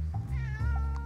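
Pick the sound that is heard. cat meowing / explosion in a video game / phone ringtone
cat meowing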